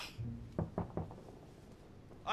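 Three firm knocks on a wooden door in The Council video game, evenly spaced and close, standing alone against a faint room tone.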